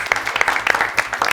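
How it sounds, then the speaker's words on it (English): Audience applause for children winning prizes on a school quiz game show, a short loud round of clapping in a studio, with distinct claps in quick uneven rhythm. "Another round of applause."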